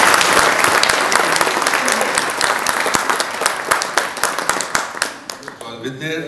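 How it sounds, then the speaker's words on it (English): An audience at an alumni association anniversary event applauds in a dense, sustained round of clapping. The applause is loud at first, then thins out toward the end, where individual claps and a faint voice can be heard. "Please give them a big round of applause."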